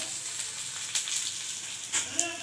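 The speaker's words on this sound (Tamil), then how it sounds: "எண்ணெய் காஞ்சதும் சீரகம், அப்புறம் வெந்தயம், வெங்காயம், பச்சை மிளகாய், கருவேப்பிலை போட்டு தாளிச்சு" Cumin, fenugreek, onion, green chili and curry leaves sizzle in hot oil, a quiet steady frying hiss with a few sharp pops and crackles.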